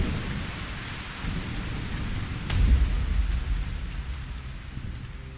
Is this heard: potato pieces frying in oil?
no